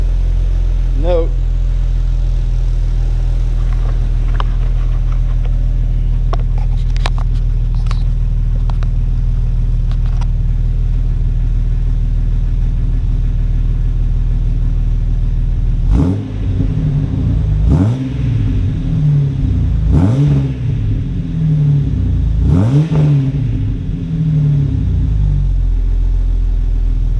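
A Jeep engine with a throaty, louder exhaust idles with a steady low rumble for about fifteen seconds, then is revved in four or five sharp blips that rise and fall, close to the microphone.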